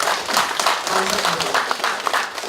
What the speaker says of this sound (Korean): 박수 쳐주세요. 박수 쳐주세요.